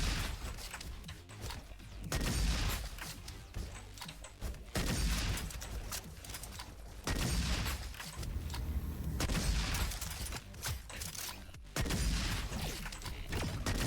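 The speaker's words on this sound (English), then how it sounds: "Bolt action sniper rifle. That's a hell of a bolt action effect." Bolt-action sniper rifle firing in the robot shooter RoboQuest: heavy, loud gunshot blasts at irregular intervals, each trailed by mechanical bolt clatter, with no talking.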